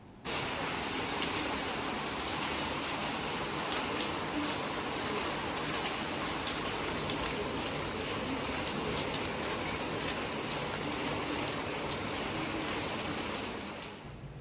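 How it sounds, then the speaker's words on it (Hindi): Heavy rain pours down in a dense, constant roar of drops hitting surfaces, steady throughout with no voices. "देखिए कितना मूसलाधार बारिश हो रहा है"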